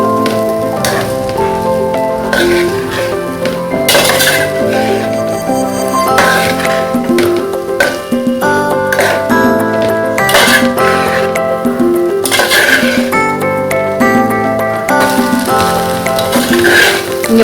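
Egg fried rice is stirred in a hot pan, giving a loud, constant sizzle and crackle with repeated scraping and clinking strokes of the spatula, heard over steady background music.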